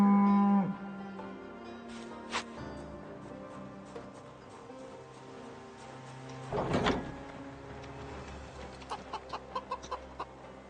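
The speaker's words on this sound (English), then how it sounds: "now that I have a cow here, my policy is to name them once I bring them in." A cow in the Project Zomboid farm setting gives a long, low moo partway through, with chickens clucking in short bursts around it and a quiet ambient background.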